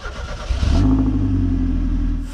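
Chevrolet Beretta GTZ four-cylinder engine starts up and settles into a loud, steady idle hum close by, with a sharp catch and surge after half a second, no voices.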